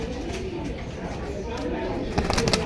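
Pigeons coo in soft repeated murmurs close by, with flutters and chirps near the end, while people talk over them.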